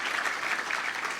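Steady dense applause from an audience at a 2013 Easter Seals advocacy awards ceremony, continuous and even throughout with no voices on top.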